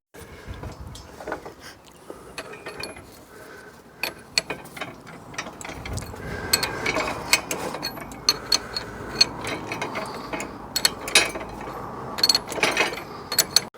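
A modified spring compressor tool works on a Smart ForTwo 450 suspension strut, a socket turning on it with repeated close ratcheting clicks and metallic mechanism sounds that grow denser and louder toward the end, with no talking.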